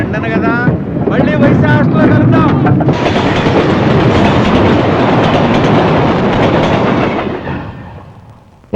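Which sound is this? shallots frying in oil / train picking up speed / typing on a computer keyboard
train picking up speed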